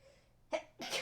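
A single close sneeze, a quick sharp intake followed by a louder explosive burst.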